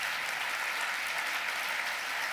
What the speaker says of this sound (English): Can we give this panelist a round of applause?